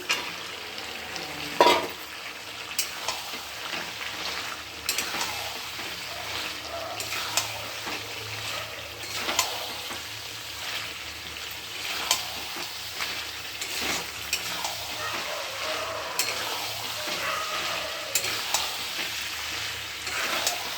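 Mutton curry with fried potatoes sizzles and crackles in a pan while being stirred and fried, with occasional scrapes and light clinks against the cookware, steady and close.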